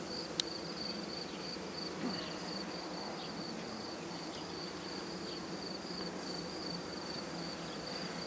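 Honeybees buzz steadily at an open beehive in a village apiary in Turkey, a faint continuous hum with no talk.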